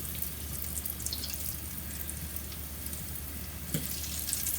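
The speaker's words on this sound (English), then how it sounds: "You want to fry it up for about 2 minutes on each side." Carrot bread puffs fry in hot oil with a steady, soft sizzle and bubbling hiss that runs without pause, close by and moderately quiet, with no voices.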